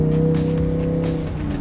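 Boosted Lamborghini pulling hard under acceleration, a loud, steady engine roar with strong harmonic tones held close for the whole moment, no talk over it.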